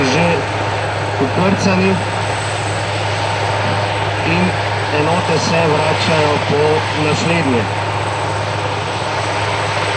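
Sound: helicopter loading wounded during rescue exercise

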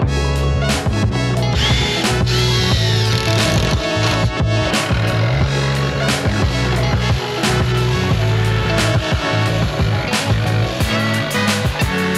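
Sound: power drill drilling a hole in camper van roof

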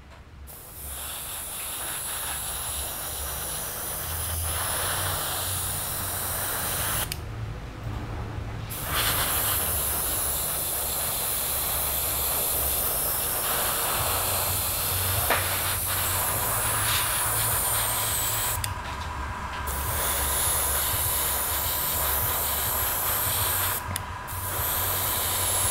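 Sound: spraying Green Stuff World color shift paint

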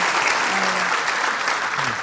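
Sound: audience applause

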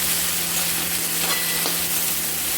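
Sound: onion and tomato frying in a pan

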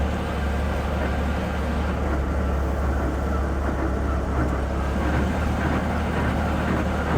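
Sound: Robinson helicopter engine and rotor spinning up

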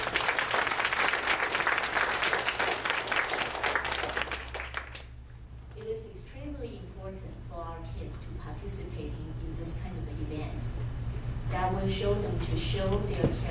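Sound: audience applause for supporters

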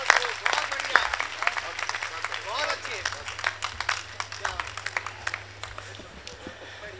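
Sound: audience applause

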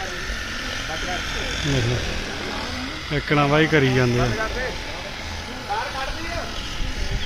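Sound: airplane circling overhead

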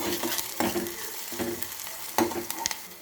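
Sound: onion frying in oil in a pot

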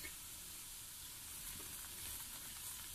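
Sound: lachha paratha being pressed and roasted on a pan

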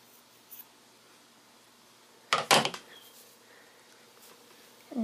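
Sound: cutting off bracelet cord slack

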